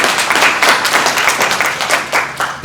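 Audience at a home mortgage initiative launch event breaks into loud, dense applause, many hands clapping close together and continuous for a few seconds before trailing off.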